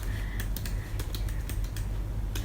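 Rapid clacky typing on a computer keyboard, a steady close stream of crisp key clicks over a low background hum, with no voices.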